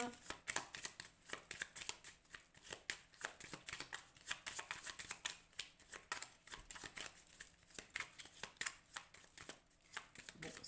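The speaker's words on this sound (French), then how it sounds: "Allez, je vais prendre encore une carte." Oracle cards are shuffled and drawn in rapid, crisp riffling bursts, a close, quiet papery flutter that continues almost nonstop.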